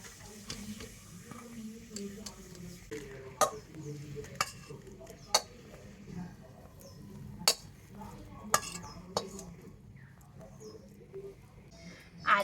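A spoon stirs a thick, sticky palm-fruit filling in a pan, with soft scraping and sharp intermittent clinks of utensil on metal at an irregular pace, under light background sizzle.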